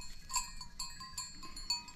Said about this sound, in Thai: แพะเนี่ยที่เขาเอามาเลี้ยงข้างบนนะคะทุกคน